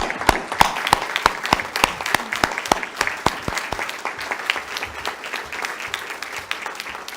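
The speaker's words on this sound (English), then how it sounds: "I would like for the students to stand up so we can give you applause" Applause for students at a school district workshop meeting; loud, distinct claps in a fairly sparse rhythm from a modest group, close and clear at first, then thinning into softer, more scattered clapping.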